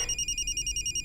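A telephone rings indoors with a fast, even electronic trill, steady and fairly close, with no voices over it.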